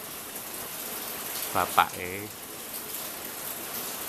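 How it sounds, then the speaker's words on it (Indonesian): Steady rain falls outdoors as a constant hiss, with a brief spoken word breaking through near the middle. "Suasananya hujan ini"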